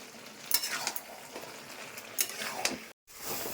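Taro pieces and fish head stir-frying in a pan for a Bengali curry, with wet sizzling under repeated scraping strokes of a spatula and a few metallic clinks, close and steady apart from a brief silent gap.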